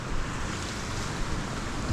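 Sea waves roll in where a river meets the sea on Jomalig island, Quezon, a steady broad wash of surf that continues unbroken with a little wind rumble.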